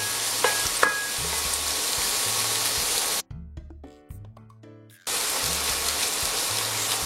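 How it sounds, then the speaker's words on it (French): Carrots sauté in a hot pan with a steady, close sizzle and frying hiss that cuts out briefly midway before resuming just as strong. "je vais faire revenir les carottes"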